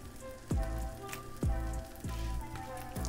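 A chicken quesadilla fries crisp in a pan, giving a steady close sizzle and crackle like rain on a surface, broken by a few low thumps and scrapes as the tortilla is moved. Nobody speaks.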